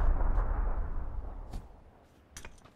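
A grenade blast in PUBG, a deep rumbling explosion that opens loud and booming, then fades into a low roll with a few faint sharp pops near the end.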